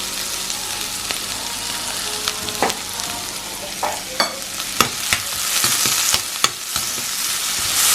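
Onions and tomatoes frying in a pan: a loud, steady sizzle fills the scene, broken by occasional sharp clicks and scrapes of stirring, with no talking.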